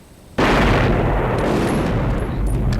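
Explosions and gunfire in the action film Rambo: First Blood Part II, a sudden loud blast that bursts in and rolls on as sustained roaring rumble.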